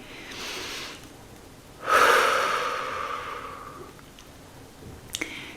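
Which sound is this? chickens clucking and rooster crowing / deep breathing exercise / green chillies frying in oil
deep breathing exercise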